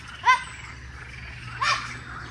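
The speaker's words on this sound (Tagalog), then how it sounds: "Yung mga palaka." Frogs croak outdoors, with two short, raspy calls spaced over a couple of seconds at a moderate distance and faint background ambience between them.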